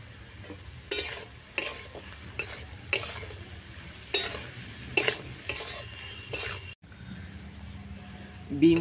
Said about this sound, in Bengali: গাজর আর বিনসটা ভাজা ভাজা হয়ে এসেছে।